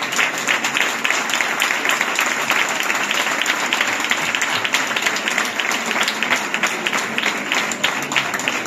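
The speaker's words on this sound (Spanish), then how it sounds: "despedimos con un fuerte aplauso a la Corte de" An audience at a street festival's presentation of queens and maids applauds the 1998 festival court with strong, sustained clapping, a loud, even roar of hands lasting the whole stretch.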